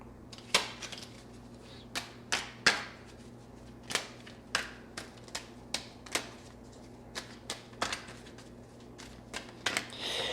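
Tarot cards are shuffled and snapped in a steady series of crisp, sharp slaps and riffles, close by over a low background hum.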